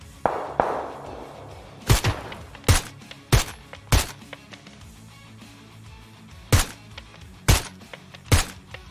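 Sharp gunshots in the PUBG battle royale game ring out in a loose, irregular series of about eight or nine loud cracks over a low background rumble, with no talk.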